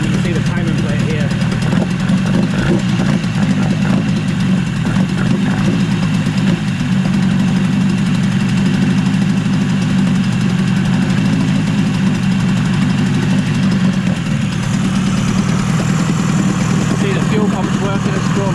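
A Yamaha 20A two-stroke outboard engine running steadily on the bench, a loud, close, buzzing idle with a rough rhythmic throb that holds even for the whole stretch.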